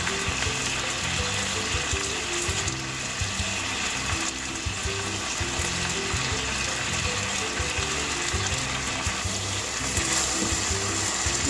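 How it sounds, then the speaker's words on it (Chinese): Teriyaki sauce poured over chicken skin in a hot pan, a steady busy sizzle with crackling and bubbling that holds evenly throughout, with no voices. "然后把汁儿浇在鸡皮上"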